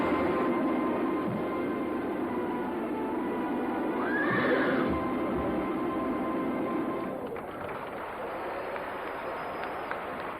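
A horse gives a clear whinny amid a busy Irish horse show, with a steady background of crowd and movement noise.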